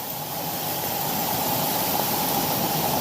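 A rural Western Pennsylvania creek swollen by heavy rain rushes steadily, a loud, even roar of flowing water with no pauses and no voices over it.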